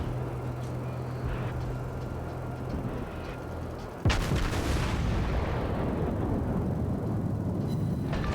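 A single heavy naval gun blast from a warship video game booms out midway, sudden and loud, over a steady background rumble of engine and sea noise.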